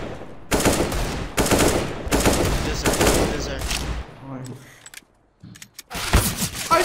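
Bursts of rapid automatic gunfire in Counter-Strike: Global Offensive repeat in several loud volleys, with brief pauses between them and a voice heard faintly in the gaps.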